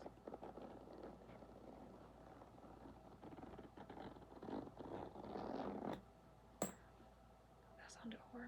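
A bag zipper opened and closed close to the microphone in a quiet ASMR setting, soft scraping zips with whispering and small tapping and mouth sounds around them.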